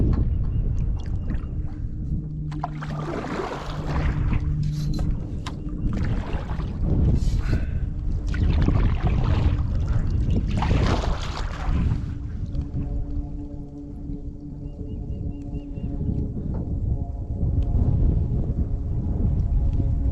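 Canoe drifting on the Red River current at the Texas/Oklahoma border, with low rumbling water and wind buffeting the microphone, swelling and easing in waves, and faint paddle or hull knocks, with no talking.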